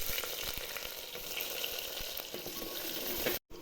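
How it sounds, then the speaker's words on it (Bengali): Steady, dense sizzling of chopped onions frying in hot oil with bay leaves and whole spices, continuous crackle with a few louder pops, broken by a brief silent gap near the end. "পেঁয়াজটা ভাজা হয়ে গেছে"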